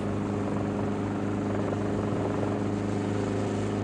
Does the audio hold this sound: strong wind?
no